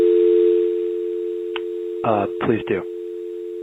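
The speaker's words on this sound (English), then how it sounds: "Sorry about the dial tone." Steady telephone tone droning on a conference call line, loud and continuous throughout, with a person briefly speaking over it near the end.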